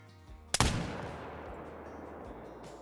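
A single loud muzzleloader rifle shot in the hunting video game Call of the Wild, set in Alberta's mountains, cracks sharply after a quiet lead-in and rolls away in a long fading echo, with no voices.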